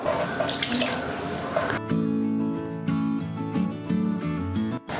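Water runs steadily from a tap, then splashes into a metal cooking pot with a rising, ringing fill sound, close and fairly loud.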